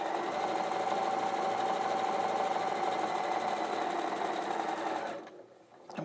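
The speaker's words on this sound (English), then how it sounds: "And I'm going to sew along." A domestic sewing machine stitches a quilt block, running at a steady, fast whir with a constant motor hum for several seconds before stopping abruptly near the end.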